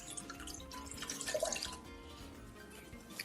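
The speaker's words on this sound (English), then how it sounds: "I'm going to add a bit of water." Water trickles and drips quietly into a flan mixture being prepared in a kitchen, a soft, brief pour with light splashing that peaks midway before fading.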